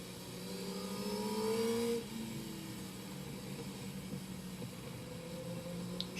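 Road traffic heard from a ride on the road, a steady mid-pitched engine drone that swells loudest over the first two seconds, then settles into a continuous hum with no talking.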